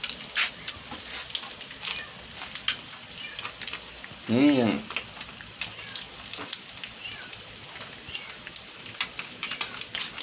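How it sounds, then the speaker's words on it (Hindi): Fish pakoras frying in hot oil give a continuous soft sizzle and crackle throughout, with one brief louder hissing burst midway as batter hits the oil; occasional voice sounds are faintly present. "ये फ्राई हो रहा है।"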